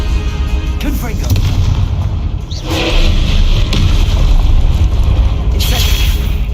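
Blasts of the Confringo explosive spell in the video game Hogwarts Legacy, loud booming bursts over constant rumbling combat noise, with a voice calling out spells among the hits.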